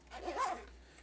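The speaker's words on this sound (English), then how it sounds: "I zip it up." Zipper on a Hazard4 Mil-pod sunglass case being drawn closed with sunglasses inside, a single short quiet rasping zip close to the microphone.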